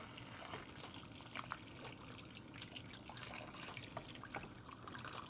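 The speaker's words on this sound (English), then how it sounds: "just add the hot water" Hot water pours steadily into a pot with a continuous rushing, splashing flow that runs unbroken throughout. No one speaks.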